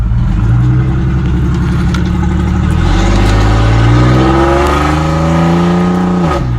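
A GMC Sierra's 4.3 V6 with a muffler delete revs loud and close, its raw exhaust note rising and falling through several throttle blips before cutting off abruptly.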